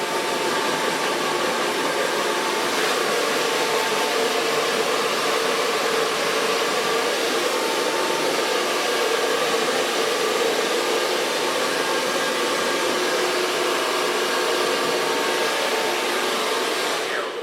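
A hair dryer blows continuously and loudly on hair for the whole stretch, a steady unbroken rushing roar with no pauses.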